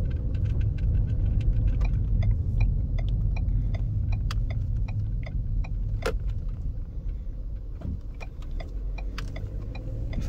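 A 2016 Ford Fusion driving smoothly, its low cabin rumble steady and fairly quiet, dotted with regular faint ticking like a turn signal and a few light knocks.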